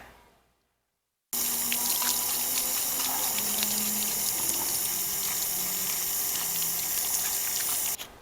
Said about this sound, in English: we'll flush out the pulp under a faucet or under water